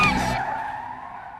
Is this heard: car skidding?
yes